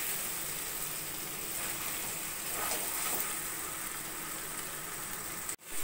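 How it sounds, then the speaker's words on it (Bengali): Mutton sizzles in a pan as garam masala powder is stirred into the spiced meat, a steady soft frying hiss with faint scraping, ending in a brief knock. "গরম মশলা গুঁড়োটা ভালো করে মশলার সঙ্গে মাংসের সঙ্গে মিশিয়ে নেব।"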